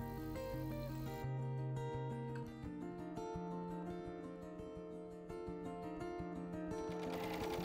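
A BERNINA overlock machine stitches bias tape onto fabric with a Clear Overlock Foot, giving a loud, steady rapid mechanical hum and ticking throughout, up close and uninterrupted.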